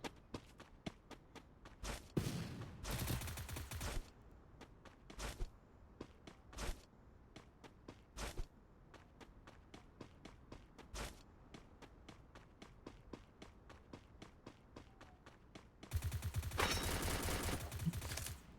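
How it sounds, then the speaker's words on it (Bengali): Gunfire echoes through a Free Fire battle royale match: scattered single shots and short bursts ring out at a moderate distance, with two long rapid automatic volleys near the start and end, over faint in-game footsteps. "ফায়ার করতেছে।"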